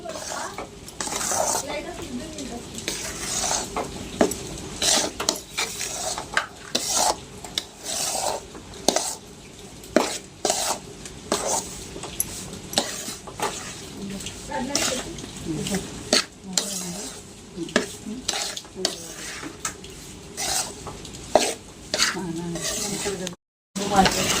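Gram flour roasting in ghee over a low flame for besan ladoo, stirred steadily with a utensil scraping the pan in a repeated, close scraping rhythm, with faint sizzling and clinks throughout and no talking.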